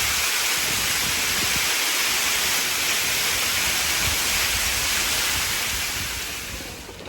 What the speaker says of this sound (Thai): บรรยากาศฝนตกข้างนอกนะคะ